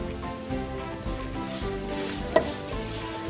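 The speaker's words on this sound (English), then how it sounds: "And we're going to let it sizzle" Cumin seeds and crushed coriander seeds frying in hot oil for Indian-style coriander potatoes, a close, even sizzle with a stir sound and one brief sharp tap.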